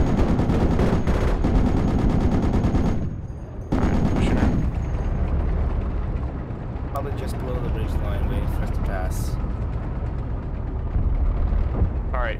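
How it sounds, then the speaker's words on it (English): A .50 cal machine gun fires in the video game Project Reality, heavy sustained bursts of loud booming shots, broken by a brief pause, with talk over the gunfire. "put some 50 cal on some of those, just blow through some of those walls"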